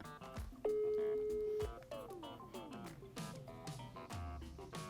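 Outgoing phone call to a mother ringing out: a steady tone followed by a busy mix of electronic tones and sweeping sounds, fairly loud and with no talk.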